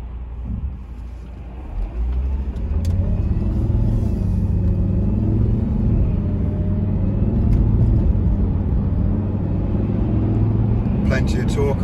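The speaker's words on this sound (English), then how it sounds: "Plenty of torque on the acceleration, comfortably up to cruising speed." 2010 Volvo XC60 2.4L diesel SE Premium accelerating up to cruising speed, its low engine rumble building and holding steady from inside the cabin, with a person talking over it throughout.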